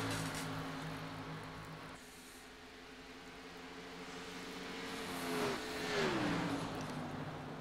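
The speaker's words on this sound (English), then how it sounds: "You can see the 52 car there is pulling up onto the infield." Race car engines at a Charlotte race, including the 52 car pulling onto the infield, droning steadily, dipping briefly, then rising in pitch as one accelerates and passes nearer before fading.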